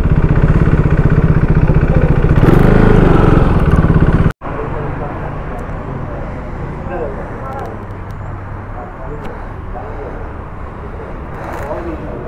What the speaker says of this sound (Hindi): तो बाइक पार्क करता हूँ